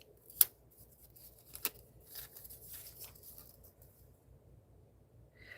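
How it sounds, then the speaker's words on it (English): Scissors cutting paper for a handmade journal, heard as a few faint, sharp snips spaced apart over quiet rustling at a close desk. "Let me cut it or pull this off and see."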